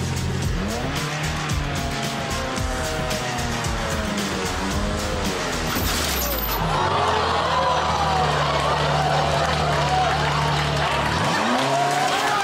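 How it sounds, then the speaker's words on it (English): A Ferrari driven for the first time, its engine revving up and down in repeated sweeps with tires squealing, and voices and a crowd in the background. "Sarah trying to drive her Ferrari for the first time"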